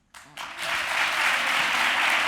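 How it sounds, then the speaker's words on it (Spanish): Studio audience applause bursts in suddenly and swells into sustained, dense clapping that holds steady and loud. "Se oyen aplausos, Emilio."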